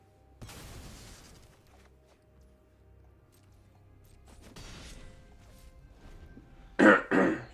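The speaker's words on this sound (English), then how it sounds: "sorry about all this coughing" A person coughs twice in a sharp, loud burst near the end, after quieter background sounds from a Magic the Gathering drafting session.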